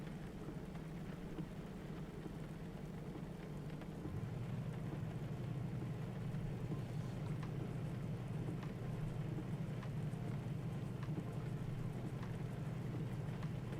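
Rain falling in the Assetto Corsa racing simulator: a steady, dense hiss of rain that carries on throughout over a constant low engine drone, which shifts slightly partway through.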